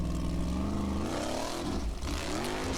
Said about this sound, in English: Engine sounded a bit off there, but he's gonna go for it.